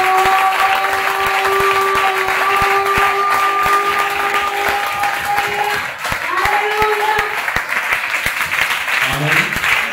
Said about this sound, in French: Acclame pour la gloire de Dieu.